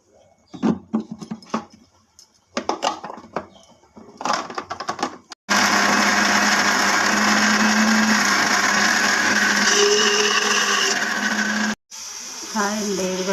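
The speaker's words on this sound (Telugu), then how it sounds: "చల్లారిందండి, ఇప్పుడు మిక్సీ చేసుకుంటానండి" A few bursts of clattering and handling noise come first, then a mixer grinder blending guava chutney starts with a loud, continuous whirring roar. It cuts out briefly and then starts again.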